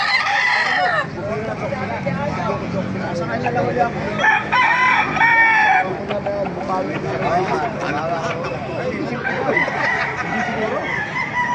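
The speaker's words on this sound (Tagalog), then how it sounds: "Maraming manok." Roosters crow repeatedly and chickens cluck at a busy Wednesday-and-Saturday poultry market in Baliuag, the calls loud and overlapping, with people talking throughout.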